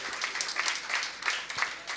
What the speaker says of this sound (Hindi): यार ताली तभी से बजाइए ना, ऐसे मत बजाइए, शर्माइए मत